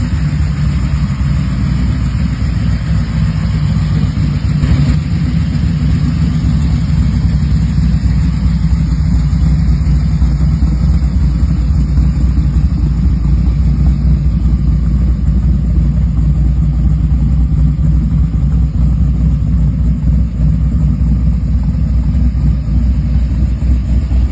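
A 1972 Chevrolet Chevelle Malibu pro street build with a 632 cubic inch engine idles with a loud, deep, steady rumble that holds constant throughout, close by and with no voices.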